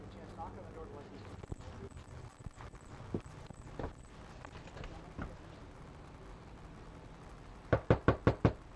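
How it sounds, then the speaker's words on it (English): Four quick, sharp knocks on a door ring out close and loud near the end, after a stretch of muffled movement and scattered thumps. "knock on the door like this."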